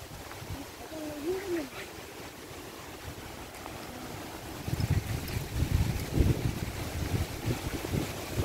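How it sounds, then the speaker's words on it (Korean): Wind blowing outdoors on Bongjesan mountain, a fluctuating rushing gust noise buffeting the microphone that grows stronger in the second half, with a brief bird-like chirp early on. "바람 꽤나 분다."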